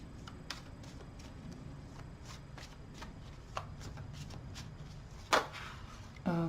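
Tarot cards being shuffled for a reading, a soft steady riffle and flutter of cards close to the microphone, with a few sharper taps and a louder snap of cards near the end.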